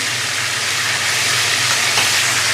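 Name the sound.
chicken pieces frying in oil for roast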